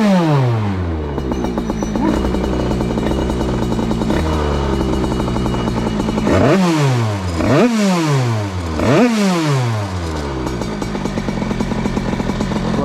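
A Derbi DRD 88cc Stage6 motorcycle engine revs hard and close, with a high buzzing two-stroke whine that climbs sharply three times in quick succession before settling back to a steady drone.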